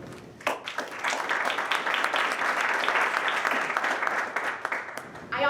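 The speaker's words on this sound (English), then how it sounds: "Round of applause for them." An audience at a State of La Grange business association event applauds panelists, with a sustained burst of many people clapping, fairly loud and even, swelling in and tapering near the end, with some voices mixed in.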